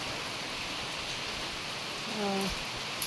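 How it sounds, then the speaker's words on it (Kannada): Rain beginning to fall outside a house, a soft even hiss of drops filling the background, with a brief voice breaking in near the end. "ಮಳೆ ಶುರುವಾಯಿತು ಬೇಗ ಬೇಗ ಬಂದಿದೆ"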